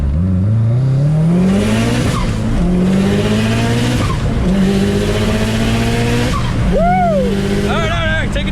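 Subaru WRX making repeated launch runs with the clutch slipped, its engine rising in pitch through gears over several pulls, loud and close, with a short squeal of tyres near the end.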